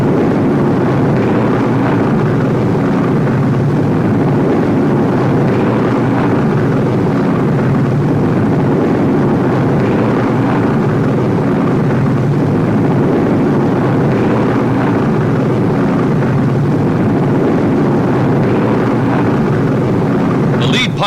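Low-flying US bomber aircraft skimming over treetops in a 1943 wartime newsreel, a steady dense engine roar throughout with no gaps, under a voice-over narration.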